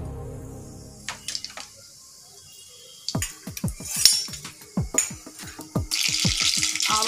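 Mustard seeds splutter in hot oil for a raw banana fry tempering: after a quiet start, a rapid scatter of sharp pops and crackles builds, close and fairly loud, alongside a few utensil clinks.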